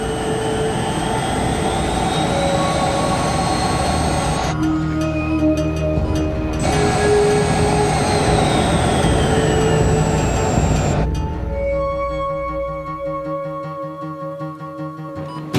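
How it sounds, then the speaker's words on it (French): An aircraft on its landing approach roars loud and steady throughout, with a sustained jet-engine whine that shifts in tone partway through. "Nous nous préparons à atterrir."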